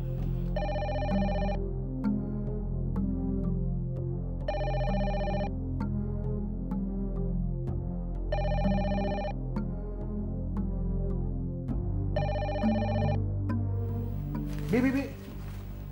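A telephone rings in four evenly spaced electronic bursts over a soft background of music, followed by a brief clatter at the end.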